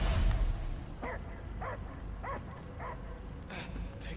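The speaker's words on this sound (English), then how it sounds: "I hear only barking." A dog barks in the video game Marvel's Guardians of the Galaxy, a steady series of about six sharp yips spaced roughly half a second apart over a murky ambient game soundscape.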